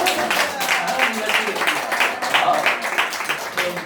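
Applause from a church audience during a Bible lecture on finances, a moderate patter of clapping in uneven swells, fairly close and lasting a few seconds.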